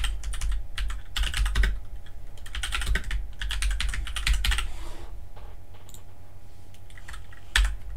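Fast typing on a computer keyboard, close and crisp, with bursts of rapid key clicks broken by short pauses and a firmer tap near the end.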